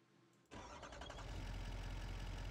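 A truck engine in the farming simulation game Farming Simulator 25 cranks briefly and then catches, settling into a steady, close mid-pitched idle rumble that continues alone.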